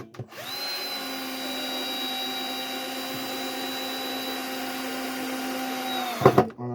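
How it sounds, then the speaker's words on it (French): A power screwdriver drives screws into a wooden board while assembling a bee feeder: a steady, close motor whine lasting about six seconds, ending with a few sharp knocks. "je visse directement le montage de la planche"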